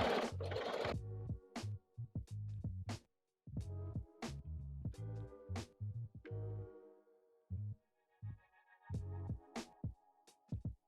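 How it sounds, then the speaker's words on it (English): A sewing machine stitches a pocket onto a fanny pack with a regular presser foot, running in short close bursts separated by brief pauses. "Sew the pocket to the fanny pack using your regular presser foot."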